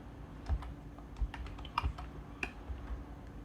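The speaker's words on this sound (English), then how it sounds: "in here we are going to type pip install virtual" Someone types a command into a computer keyboard, irregular close key clicks and taps sounding softly in a quiet room, with no voices.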